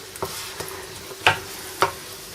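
A spoon stirs tinned tomatoes into a lamb curry in a pan, a few soft scraping knocks at irregular intervals over a faint sizzle, with no talk.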